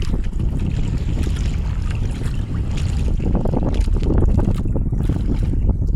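A boat engine's steady low drone runs throughout, with wind buffeting and water splashing over it; no voices.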